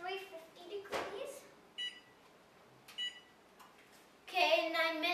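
Oven control panel beeping as it is set to 350 degrees, a few short electronic tones at about 1.8 and 3 seconds, mid-distance, with kitchen clatter and a voice around them.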